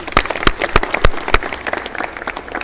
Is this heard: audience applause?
yes